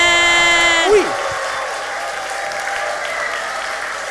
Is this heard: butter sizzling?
no